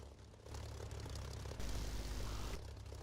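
Propeller aircraft engine in a flight simulator game (DCS or War Thunder), a steady droning hum with a low rumble that surges slightly louder midway, heard alone at moderate level.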